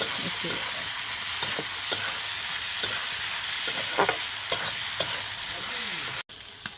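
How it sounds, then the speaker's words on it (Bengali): Fish sizzles steadily in hot oil in a pan during Eid home cooking, a continuous close frying crackle with occasional stirring clinks and no talking. "এখন শুধু এই যে মাছটা ভাজি করতেছি"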